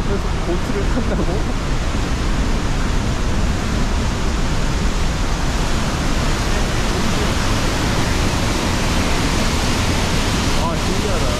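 A roaring waterfall seen from a boat in Switzerland makes a loud, steady broadband rush that fills the whole stretch with no break.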